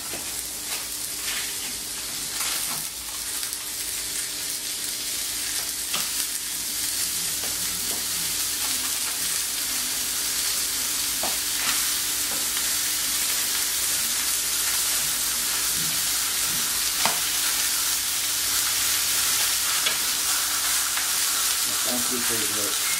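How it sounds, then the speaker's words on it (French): Ramen burgers fry in a hot pan with a steady, dense sizzle and crackle that runs unbroken throughout, close and loud, with no voices. "Nous allons cuire nos burgers de ramen."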